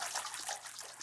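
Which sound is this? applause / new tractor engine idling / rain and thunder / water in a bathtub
water in a bathtub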